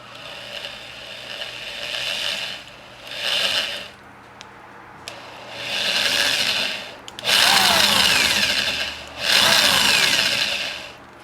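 A power drill bores into a whole coconut in a kitchen in several separate bursts of whining, grinding noise, each a few seconds long, with short quiet pauses between them.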